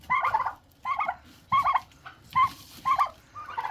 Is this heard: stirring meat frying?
no